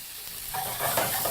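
Tomatoes drop onto golden fried onions in a hot pan and are stirred, a loud close hissing sizzle that swells briefly as they go in, with no speech.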